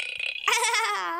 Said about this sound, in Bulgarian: Тук се оригваме.